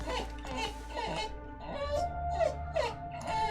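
A dog in a video game whimpers for a treat with high, wavering whines and yips in several short bursts over a low background hum, fairly close.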